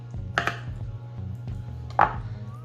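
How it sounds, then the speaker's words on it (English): A sharp knife chops through the cartilage of a pork rib breastbone on a board, giving two crisp cuts about a second and a half apart over a low steady hum, close and without talking. "You just cut straight through this cartilage."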